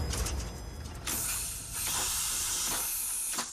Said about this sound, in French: Ça grogne comme un gros monstre, ça éructe, ça envoie de la vapeur.